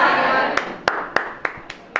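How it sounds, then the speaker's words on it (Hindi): A classroom group claps together at the close of a Rajasthan geography lesson, with five or six sharp, separate claps standing out over a brief patch of broadband noise and murmur. "अपने लिए ताली मारो एक बार।"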